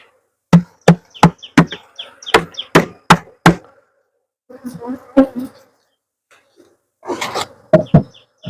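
Honeybees crowd a beehive frame, with a close insect buzz swelling in short bursts between a run of sharp, evenly spaced knocks and taps on the wooden frame.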